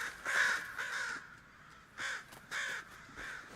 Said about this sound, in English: Something spooked all the birds.